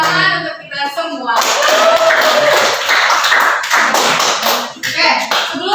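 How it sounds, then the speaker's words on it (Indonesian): A class breaks into loud, sustained applause with many hands clapping together, following a brief spoken cue and fading near the end. "Tepuk tangan untuk kita semua."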